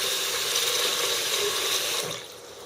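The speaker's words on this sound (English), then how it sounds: "So the next thing we're going to do is we're going to rinse this rice." Tap water runs and splashes steadily into a container of rice being rinsed, a bright rushing sound that tapers off near the end.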